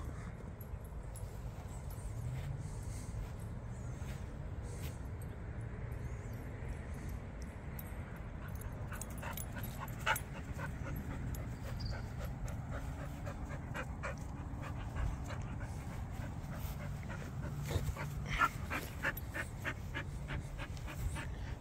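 A dog pants steadily at close range for a long stretch, with occasional faint whimpers and scuffling noises mixed in.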